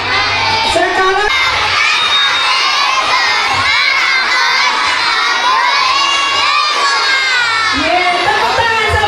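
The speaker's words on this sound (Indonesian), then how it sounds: "Masih hafal yel-yel visi dari SDN Pulau Gebang 20?" Primary schoolchildren at SDN Pulo Gebang 20 loudly shout their school chant together at a Heroes' Day gathering, a dense, sustained crowd of young voices cheering and yelling without pause.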